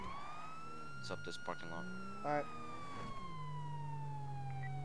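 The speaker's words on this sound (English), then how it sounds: "Right, turn the siren." A police siren in GTA 5 wails in a long, steady falling tone throughout, with someone talking over it in short bursts.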